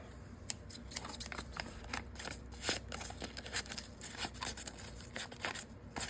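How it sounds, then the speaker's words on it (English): Stainless steel Amazon Basics scissors from a household tool kit being handled up close, with quiet metallic clicks, snips and rustling scattered irregularly across a faint background. "And we have a pair of scissors."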